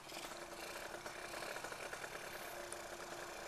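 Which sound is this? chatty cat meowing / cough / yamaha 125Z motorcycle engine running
yamaha 125Z motorcycle engine running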